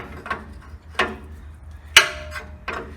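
A ratchet wrench works a bolt out of a spring shackle on a 1977 Ford F150 pickup, giving a few separate short clicking bursts spaced about a second apart, with a low steady hum underneath.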